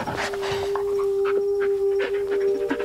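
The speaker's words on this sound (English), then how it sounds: "Yeah, good dog" A dog in the Blair Witch video game pants in quick, rhythmic breaths close by, with a steady tone running underneath and a few faint whimpers mixed in.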